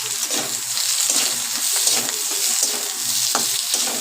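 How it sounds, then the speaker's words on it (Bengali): Sliced onions sizzle loudly in hot oil in a pan, a dense continuous frying hiss with occasional crackles and stirring scrapes, close up and steady throughout. "তেল গরম হয়ে গেছে, এবার পেঁয়াজগুলো ছেড়ে দেবো তেল চচ্চড়ির জন্য।"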